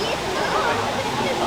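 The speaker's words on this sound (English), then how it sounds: "I think that's like a decorative water feature type thing" A decorative water feature at a resort gives a steady rushing, splashing flow like a small waterfall, close and continuous throughout.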